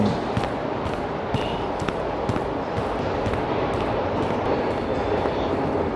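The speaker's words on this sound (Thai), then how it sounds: "เจอแล้วครับเอสบานอยู่ตรงหน้า" Berlin S-Bahn train at a city station platform, a steady broad rumble with periodic clacks and brief squeals as it runs close by, with no speech.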